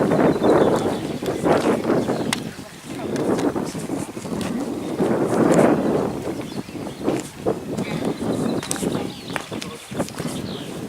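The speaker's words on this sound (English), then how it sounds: "It's a bit more windy on this side" Wind gusting steadily across an exposed hillside at Blackbury Castle, with broad rushing noise buffeting the microphone in swells and low rumbling bursts, fairly loud throughout.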